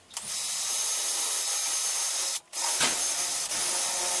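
A power drill bores a hole in the side of a plastic growing container, a loud high whine running steadily, cutting out briefly, then resuming with a grinding catch as the bit breaks through.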